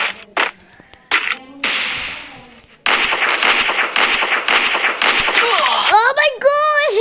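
Gunfire from the Free Fire video game comes in loud, rapid bursts of shots, with excited talk over the top and a short rising electronic tone near the end.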